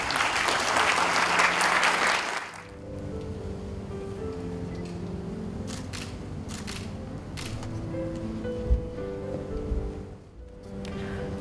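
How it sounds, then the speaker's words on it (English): An audience at a diploma ceremony applauds, a dense loud burst of clapping for about two seconds that cuts off, leaving quiet room tone with a few scattered knocks and shuffles. "Let us give a big round of applause to Mr."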